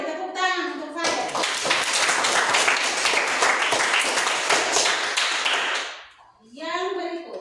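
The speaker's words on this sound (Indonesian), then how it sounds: "Mari tepuk tangan untuk Fadel." A grade 8 Indonesian-language class applauds a student, bursting into brisk, close hand clapping from many children that lasts about five seconds, framed by a teacher speaking before and after.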